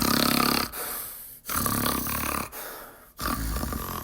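A storyteller's voice imitates loud snoring, three long rasping snore cycles with brief quiet gaps between them, close and prominent.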